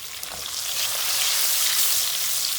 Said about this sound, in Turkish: İçine şöyle bir çahma tereyağımızı atalım.